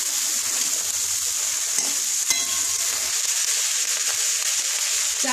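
Sliced flat beans frying in a pan for a spicy Amudi fish curry are stirred, giving a steady loud sizzle with scraping strokes and a sharp clack of the spoon against the pan midway.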